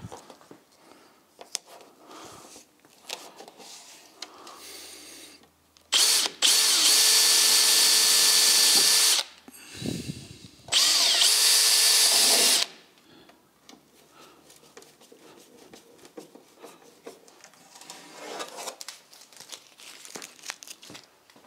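Power drill boring holes in a panel on an MGB GT car, two loud sustained bursts of whirring a few seconds each, separated by a short pause, with quieter handling and tape crinkling around them.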